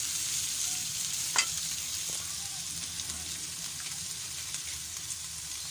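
Julienne-cut taro sizzles steadily in hot oil in a pan, with a spoon stirring and scraping briefly near the start; the frying stays soft and continuous throughout.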